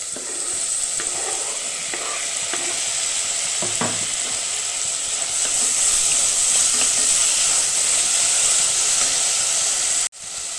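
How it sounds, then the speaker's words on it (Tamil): Tomatoes go into a pan of softened onions for an ivy gourd pachadi and sauté with a steady, hissing sizzle that grows louder partway through. A few stirring scrapes sound near the start, and the sound breaks off briefly near the end. "வெங்காயம் ஓரளவுக்கு நல்லா வதங்கிடுச்சு அடுத்தது நம்ம எடுத்து வச்சுருக்க தக்காளி சேர்த்துக்கலாம்"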